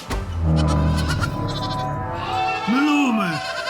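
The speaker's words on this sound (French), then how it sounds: "Fermez la porte, mes chèvres vont s'enfuir!" Goats bleat loudly and close, with a wavering, quavering call near the end, overlapping with a person speaking.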